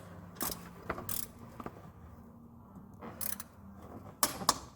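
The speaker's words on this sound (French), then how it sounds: "maintenant il faut que je serre la vis de la rotation" Ratcheting clicks from a wrench tightening the pivot screw on a car's timing belt tensioner, several short bursts of rapid clicks spread across the moment, fairly quiet and close with no talk.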